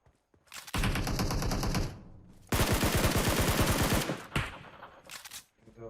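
Gunfire in the mobile battle royale game PUBG Mobile: two long, loud bursts of rapid automatic shots, close and dense, separated by a brief lull, with short bits of firing at the edges.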